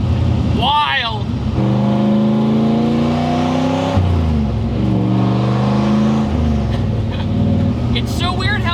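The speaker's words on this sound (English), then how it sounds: "It's so weird how natural the LS engine feels in the S chassis." Nissan 240SX with a swapped LS V8 engine, driving and revving: a loud, steady engine drone with pitch shifts as it accelerates and changes gear, with people talking over it.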